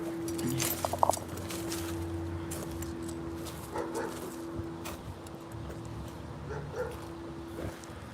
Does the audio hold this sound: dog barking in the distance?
yes